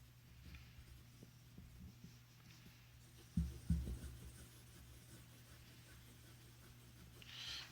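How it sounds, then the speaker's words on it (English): A Platinum 3776 Century fountain pen writes quickly on paper, its soft scratching strokes faint and close over a low electrical hum, with a couple of louder bumps midway. "I'll do a bit of quick writing, see how the nib and feed keep up."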